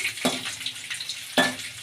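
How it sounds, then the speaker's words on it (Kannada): Dried Byadagi red chillies hiss and crackle steadily in hot oil, with two sharper splattering bursts standing out from the sizzle. "ಚೆನ್ನಾಗಿ ಫ್ರೈ ಆಗಲಿ"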